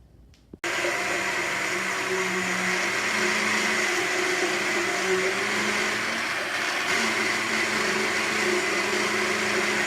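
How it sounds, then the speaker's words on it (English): A blender whirs up vegetables for salsa sauce, starting abruptly after a brief quiet moment and then holding a loud, steady, droning motor whine for the rest of the clip. "Now we're going to blend our vegetables."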